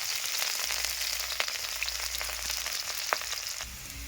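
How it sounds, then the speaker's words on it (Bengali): Chili, garlic and ginger fry in a blackened iron wok, producing a dense, steady sizzle with a few faint clicks of a utensil and no talk. "এবার লঙ্কা রসুন আর আদা সঙ্গে ভেজে নেবো।"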